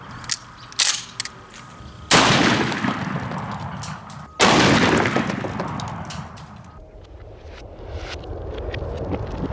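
A gun fires a brass slug into cinder blocks: two loud sharp blasts a couple of seconds apart, each trailing a long decaying crash, with a few small clicks before the first.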